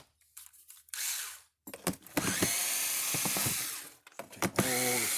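Phillips screws being backed out of a Kencove solar fence charger, with a cordless drill whirring in several short bursts and one longer steady run, close up, with clicks and handling noises between bursts.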